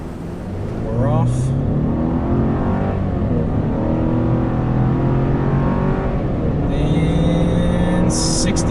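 A turbocharged Chevy or Ford pickup in 4 high launches hard from a brake-torqued start, its engine roaring loud and rising through the gears over several seconds, with a voice talking over it.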